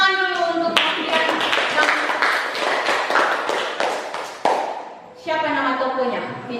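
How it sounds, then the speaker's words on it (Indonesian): A class of children in an Indonesian classroom bursts into a few seconds of quick, loud clapping, sandwiched between a teacher's voice before and after. "tepuk tangan dulu untuk kalian"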